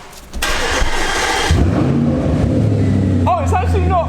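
A 4.2 V8 in an Audi RS5 starts with no exhaust fitted: a sharp crank and catch, then a loud, raw, steady idle close by, with a brief voice near the end.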